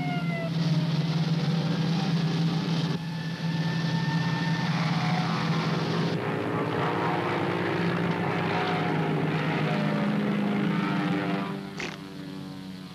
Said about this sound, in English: Fasten your seatbelts. We are taking off.